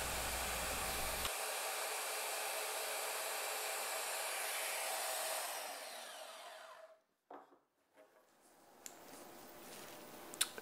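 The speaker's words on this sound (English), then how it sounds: "I found that it was a lot easier to just use the bandsaw to cut this off the end." A bandsaw cuts a small metal piece off the end of a part, giving a loud steady whirring hiss that fades away midway, followed by a few brief clunks and handling noises.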